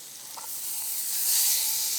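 Chateaubriand beef cut searing in a hot, non-stick-free pan, a steady bright hiss and sizzle rising slightly in strength over two seconds, heard alone without talk.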